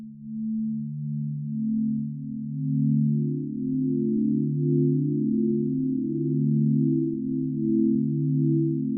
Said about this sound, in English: So that's giving us a nice pure sine wave type sound.